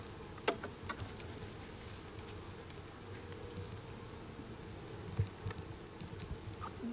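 Honeybees from a very active beehive hum in a dense, steady drone close by, with a few louder buzzes and small taps from the hive boxes.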